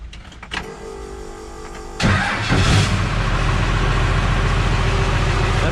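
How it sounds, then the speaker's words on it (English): A Ford Galaxie engine with a modified fuel system idles high and steady, a loud, close rumble that jumps up partway through and then holds a constant elevated drone with no talking. "Definitely idling high still."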